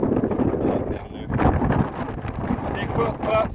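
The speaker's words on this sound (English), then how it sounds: "It's windy, guys." Strong wind buffets the microphone in low, rumbling gusts that rise and fall, with a few brief voices near the end.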